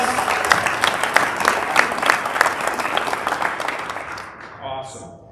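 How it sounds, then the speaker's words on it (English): Audience applause at a school junior ceremony, a loud, close burst of clapping that tapers off as a voice starts speaking near the end. "Let's give her a round of applause"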